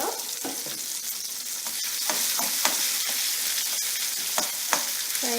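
Tomato cooks in a pan while a spoon stirs it: a constant close sizzle broken by repeated sharp scraping strokes and clicks against the pan.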